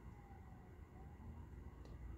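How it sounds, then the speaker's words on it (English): Emergency sirens wail faintly in the distance, a thin steady tone under low background rumble with no talking. "Sirens in the background. Something's going down."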